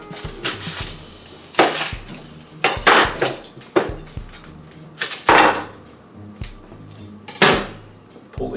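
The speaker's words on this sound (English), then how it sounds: "And then I'm going to cut up an onion." A knife cuts an onion into thin slices on a board for pollo asado, giving a run of sharp, separate chopping knocks at an uneven pace, close and clear with no talking.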